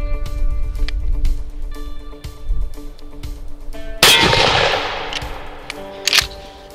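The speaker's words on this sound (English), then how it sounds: "Next up is a 2 3/4 double lock buckshot." A 2 3/4 inch double lock buckshot shell is fired at a cheap body armor target outdoors, a single loud, sharp blast with a rough decaying tail, preceded by low rumbling and faint tonal hum, followed by a brief later knock.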